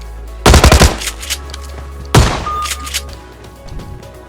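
Shotgun fire in a battle royale video game: a rapid burst of several loud, close shots, a pause, then another heavy blast with echoing tail, followed by fainter game sounds.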